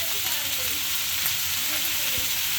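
Onion and garlic fried until browned, with cut flat beans and potatoes tossed into the pan: a steady, close sizzle and crackle of oil with faint stirring, no voices.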